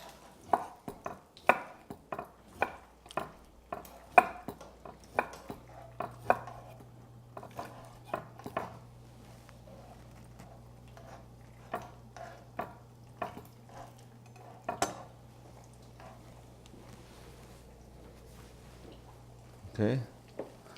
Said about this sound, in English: As the egg cook, go ahead and stir it up for me if you don't mind